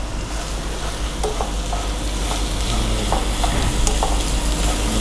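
Macaroni ingredients stir-fry in hot oil with a steady, dense sizzle. Occasional scrapes and taps of the stirring utensil sound close up, and no one talks.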